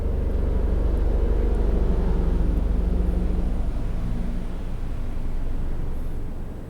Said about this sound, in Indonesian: Ada helikopter lewat jadi suaranya ganggu.